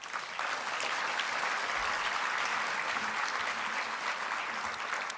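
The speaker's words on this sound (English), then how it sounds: "can we please give them a round of applause?" Applause from a conference audience, a dense, steady wash of clapping hands lasting throughout, with no voices over it.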